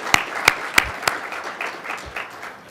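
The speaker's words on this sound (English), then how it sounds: "please, will you help me give them a round of applause" A brief round of applause from an audience at a provincial government event honouring MPPs, starting with a few loud, separate claps that settle into a softer, scattered patter.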